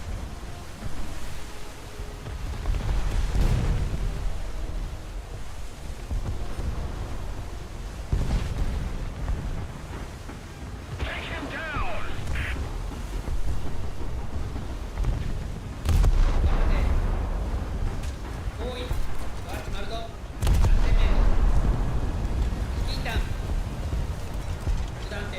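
Naval gunners fire artillery in a boat combat video game, with heavy booming shots recurring around sea wash and rumble, including sharp loud blasts near the middle and later, while a person talks over the action.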